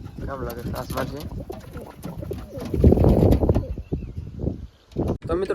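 Pigeons in a home pigeon setup coo steadily nearby: soft, low, rolling calls overlap one another and swell in the middle, with a brief pause near the end.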